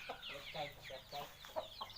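Breeding gamecock rooster, a fighting-cock stud bird, clucking in a series of short repeated calls close by, with a faint voice now and then in the background.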